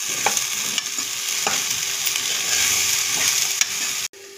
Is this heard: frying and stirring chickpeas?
yes